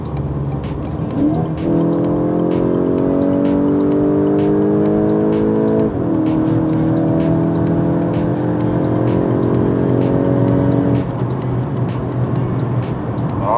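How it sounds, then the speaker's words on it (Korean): An eighth-generation Volkswagen Golf GTI hot hatch in sport mode accelerates hard, its engine note climbing sharply through several gear changes, loud and close, with a throaty exhaust. "그럼 이제 살짝 기회를 봐서 가속을 한번 해보겠습니다."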